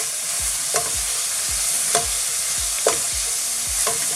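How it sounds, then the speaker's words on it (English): Curry powder (Raja hot) and onions are stirred in a frying pan for a dry-fish doogi bhuna. Close, rhythmic scraping strokes land about every half second over a loud, continuous sizzle. "I'm just giving it a good mix now"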